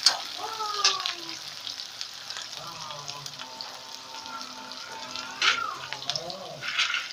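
Onions sizzling in a pan for poha, a soft steady frying hiss with occasional stirring and clinks of a utensil, quiet and close.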